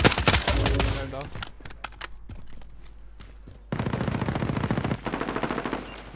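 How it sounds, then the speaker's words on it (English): Automatic gunfire in the video game Warzone: an intense close burst at the start, scattered single shots, then long stretches of sustained rapid fire. "There's someone shooting you."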